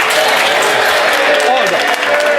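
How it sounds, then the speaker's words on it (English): Clapping from MPs in the House of Commons chamber, a sustained wash of applause heard at a distance under loud, continuous speech. "you ought to be embarrassed by clapping"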